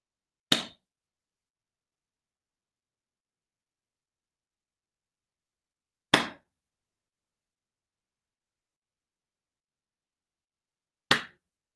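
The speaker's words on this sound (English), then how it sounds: "when you hear my gentle clap, I'd like you to listen for as long as you can" A gentle single hand clap repeated three times, each a short crisp snap spaced about five seconds apart in an otherwise silent room, the sound ringing off quickly after each one.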